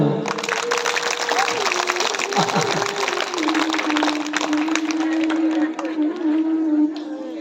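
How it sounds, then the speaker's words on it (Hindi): An audience claps at a Hindu Bhagavat Katha discourse, the applause running loud and dense for about seven seconds, with a sustained musical tone under it. "अब तो ताली बजा दो।"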